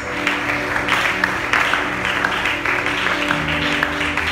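A church congregation applauds and acclaims Jesus, sustained clapping from many hands, fairly loud and continuous, with a held musical tone underneath.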